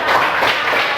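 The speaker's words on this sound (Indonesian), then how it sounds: "Tepuk tangan dong." Brief burst of audience clapping in a classroom-style setting, fairly loud and close, lasting about a second with no talk over it.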